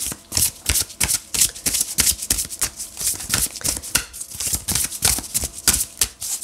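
Tarot cards are shuffled continuously for a weekly reading, giving close, rapid riffling and slapping bursts in an uneven but steady rhythm with no talk.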